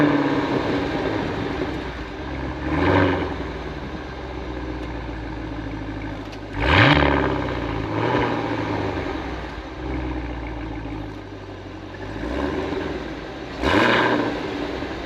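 The engine of a 2023 Cadillac Escalade V luxury three-row SUV hums steadily, then surges into four strong revs spread across the stretch, each swelling loudly before dropping back to a deep drone.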